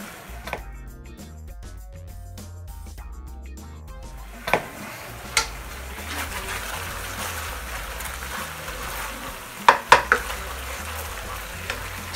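Whole yellow ají pepper strips dropped into a hot frying pan for chicken escabeche, a steady oil sizzle with a few sharp clinks of a utensil against the pan, no talking.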